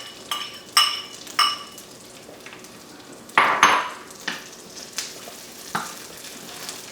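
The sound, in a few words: sauteed onions and bacon put back into the pan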